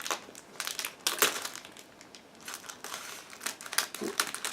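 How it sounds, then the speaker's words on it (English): Loose plastic model kit parts for a Miniart 1/35 T-54B Early tank crinkle inside a plastic bag, with irregular close crackling bursts handled continuously and no talking. "we have another plastic bag with plastic parts"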